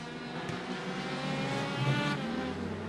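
Short track race cars from the Super Short Track Racing Series roar past on the oval, a loud, continuous engine drone with rising and falling pitch as cars sweep by, no voices.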